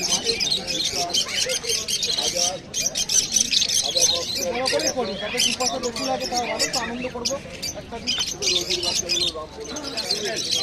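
Lovebirds and other caged birds chirp and tweet continuously at a bird and animal market in Serampore, a dense high-pitched chatter under a person talking.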